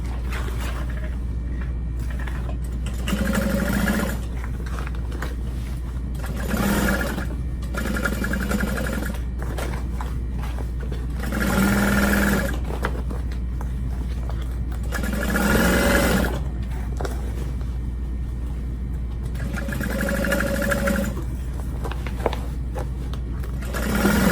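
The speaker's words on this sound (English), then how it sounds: "I've got it all clipped, so I'm going to top stitch." A sewing machine top stitches fabric for a car trash can, running in several bursts of a few seconds each, with short pauses between them over a constant low motor hum.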